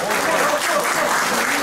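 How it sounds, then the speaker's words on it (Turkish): Dense applause from a crowd at a mayor's visit to a community association fills the space, continuous close clapping with voices mixed underneath. "alkış, alkış, alkış, alkış."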